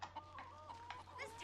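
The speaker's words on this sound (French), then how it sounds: "On entend les poules." Chickens cluck faintly in the background of the Western shooter game Call of Juarez: Gunslinger, a few short, repeated clucks over a low, steady hum.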